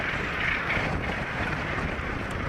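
Steady wind rushes and buffets the microphone, a broad constant roar with no voices.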